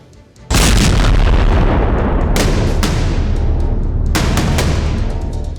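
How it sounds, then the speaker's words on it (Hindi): An IED blast in Delhi's VVIP zone in the evening: a loud sudden boom breaks out after a half-second lull, then a sustained heavy roar follows, with further sharp bursts flaring through it. "दिल्ली के VVIP जोन में IED ब्लास्ट हुआ"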